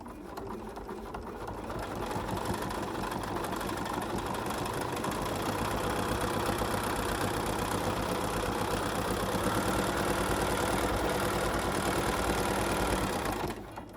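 A sewing machine stitches quilt binding with a quarter-inch seam, running steadily and continuously for over ten seconds, a close mechanical whir with rapid needle chatter before stopping abruptly.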